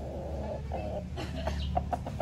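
A pet chicken clucks in short, separate bursts at close range, the calls growing more frequent in the second half over a steady low background hum.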